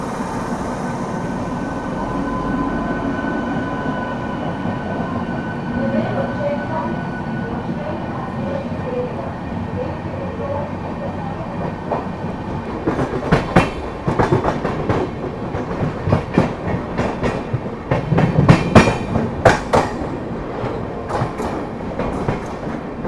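Passenger trains run side by side on an Indian railway line toward Ghaziabad, one of them likely the Padmavat Express, heard from on board. A steady rumbling roll builds into loud, irregular clickety-clack wheel beats over the second half.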